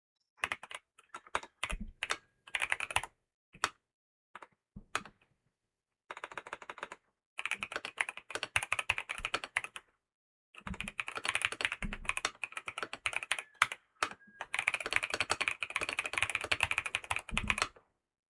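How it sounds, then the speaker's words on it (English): Close-up typing on the keyboard of a BYOK writing device: rapid clattering keystrokes come in bursts separated by short silent pauses, with no talking. "You're watching me, so I'm going to type."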